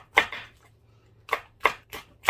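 Four sharp knife chops slice Cheongyang chili peppers on a cutting board for a doenjang-seasoned Dolsan mustard greens dish, close and crisp with a long pause after the first stroke, no talk.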